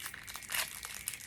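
Crinkling plastic wrapper of a Chinese Pokémon booster pack pulled open from the bottom, giving a short burst of close, bright crackling and rustling that peaks midway and then settles into lighter crinkles.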